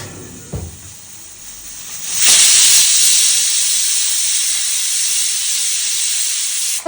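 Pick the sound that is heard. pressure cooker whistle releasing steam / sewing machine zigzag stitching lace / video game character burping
pressure cooker whistle releasing steam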